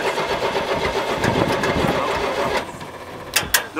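A demolition derby car's engine cranks over without catching, a rapid, rough, continuous churning from the starter for about three seconds, then stops with a few clanks.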